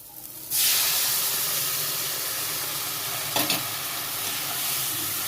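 Dal is tipped into a hot pan of fried bitter gourd and bursts into a loud sudden sizzle and hiss that then settles into steady frying, with a brief clatter of utensils partway through; no talking.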